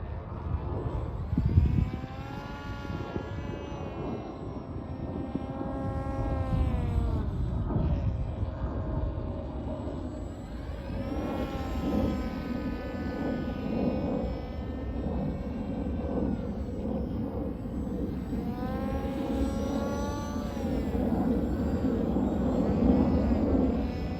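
Aircraft engine drones steadily in flight, a smooth continuous tone with slowly rising and falling pitch, close and sustained throughout.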